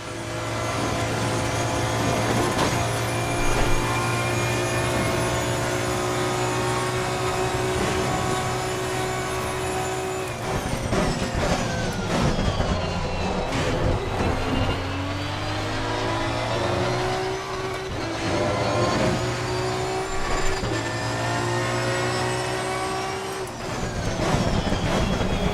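A race car in Assetto Corsa Competizione held at high revs, a loud sustained engine drone with steady harmonic tones that shift pitch through gear changes and braking, running continuously without pause.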